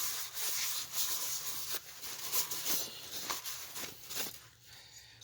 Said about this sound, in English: that's 400 grit sandpaper. That's all I'm going to do, just like that